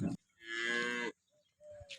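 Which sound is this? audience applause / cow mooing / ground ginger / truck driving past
cow mooing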